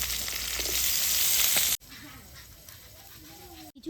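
Cauliflower and carrot pieces frying in a pan for a vegetable khichuri, a loud steady sizzle that drops off abruptly, then quieter frying with occasional stirring scrapes.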